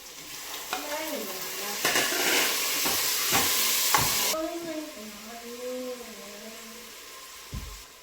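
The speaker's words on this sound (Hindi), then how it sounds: "फिर मैंने तड़का मार दिया है खड़े मसाले का और उसके बाद प्याज डाल दिया है" Whole spices and onion fry in hot oil for dal tadka, a loud sizzle and hiss with stirring scrapes that gradually settle into a quieter crackle.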